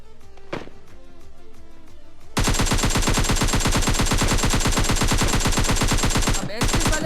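Gunfire in the PUBG Lite battle royale game: a few scattered shots and footsteps, then a loud, sustained rapid-fire burst of automatic weapon fire with a brief gap before it resumes near the end.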